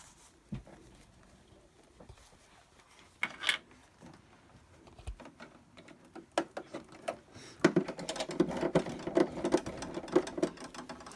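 A sewing machine stitches heavy fabric for a tote bag: scattered clicks and handling knocks come first, then a fast, dense run of stitching chatter builds up close for the last few seconds.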